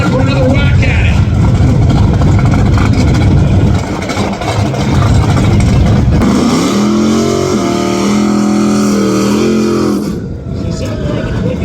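Nitrous-fed big block Chevy Camaro drag car at Tulsa Raceway Park, its engine loud and rumbling throughout, swelling into a steady heavy roar midway before dropping off near the end, with commentary over it.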